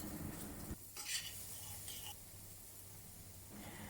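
Garlic and onion slices sautéing in a pan for a Malaysian chicken chop mushroom sauce, a soft steady sizzle with a few stirring scrapes and utensil clinks close by.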